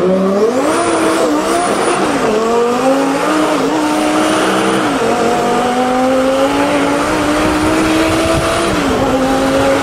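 A Lamborghini with a twin-turbo engine revving and pulling hard, its loud sustained engine note climbing and dropping through gear changes with high-pitched whine and brief tire squeal, heard close from inside the car.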